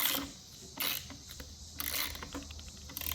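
A socket wrench ratchets close up while a part is loosened on a two-stroke string trimmer, giving rapid clicking bursts in several repeated strokes.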